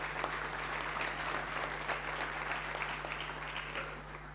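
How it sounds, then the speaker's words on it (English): Audience applause at a university event, a room of people clapping steadily at moderate distance, even and sustained before tapering slightly at the end. "A round of applause for Comrade Ike."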